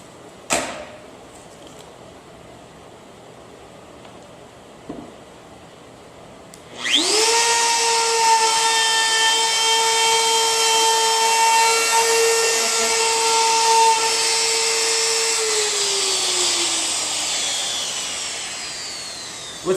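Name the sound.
compact portable router cutting a wooden board edge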